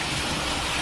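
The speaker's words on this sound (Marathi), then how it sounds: "एवढा पाऊस पडतो बाहेर" Heavy rain falls outside as a dense, loud, continuous hiss with no break and no talk.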